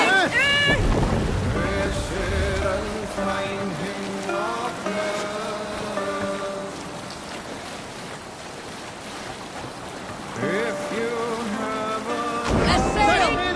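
A Viking longship sails across open water in Assassin's Creed Valhalla, with water rushing and lapping against the hull and wind blowing, while voices and tonal chanting ring out over the top.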